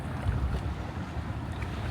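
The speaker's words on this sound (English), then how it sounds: "It's a windy day here" Steady, low rumbling wind noise buffeting the microphone outdoors by the Mississippi River in Davenport, Iowa, with a faint broad whoosh of moving air and no voices.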